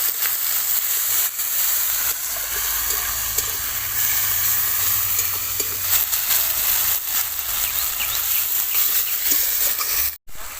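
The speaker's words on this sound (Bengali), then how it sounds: "জিরে বাটা, আর দিয়ে দেব শুকনো লঙ্কা বাটা। কষিয়ে নেব।" Cumin paste and dried red chili paste sautéing in hot oil, a continuous loud sizzle and hiss with occasional crackles, alone without talk, cutting off briefly near the end.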